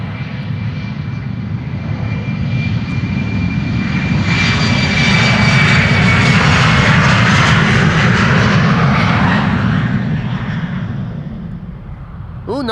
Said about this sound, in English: an Embraer 190 to Hanover is pulling up here in the foreground